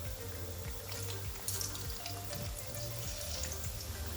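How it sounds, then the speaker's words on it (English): Plantain bhaji frying in hot oil gives a steady, soft sizzle and bubbling throughout, with a few faint clinks and stirring sounds, fairly quiet and close. "the last one is a plantain to fry again"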